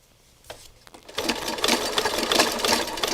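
A sewing machine runs a zigzag stitch along a design edge. A few soft clicks and thumps come first, then the motor whirs up into a steady, close buzzing drone that holds to the end.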